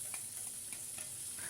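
Chopped tomatoes and bay leaves fry in a pan for a Bengali broad bean dal, a steady faint sizzle with light scraping stirs, close and without talk.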